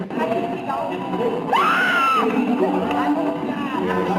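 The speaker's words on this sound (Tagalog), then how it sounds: "Yung sigawan dyan sa venue." A crowd at an awards venue screams and cheers in a rising roar of shrill voices, with a reporter talking over the din.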